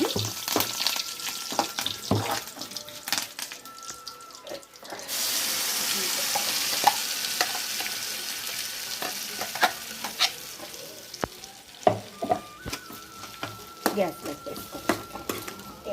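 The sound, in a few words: tempering sizzling with curry leaves for chutney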